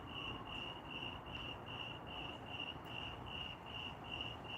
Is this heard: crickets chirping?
yes